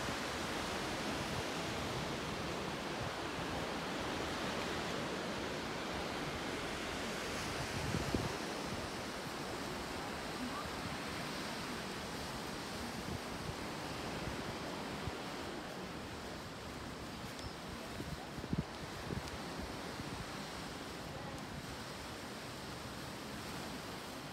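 Sea waves wash onto the beach at Tahara-Irago in Aichi, Japan, a steady broad rushing surf mixed with wind, continuous and even, with a few faint bumps.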